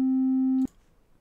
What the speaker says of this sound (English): There we go, that is a sine wave.